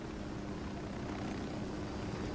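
A helicopter in the video game Ghost Recon Wildlands makes a steady, dense rotor-and-engine roar, continuous and close, with no talk over it.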